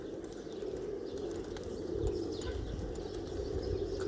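A large flock of about 700 domestic pigeons cooing together in a low, continuous murmur, with scattered soft chirps and faint flutters of wings, fairly quiet and steady, no speech.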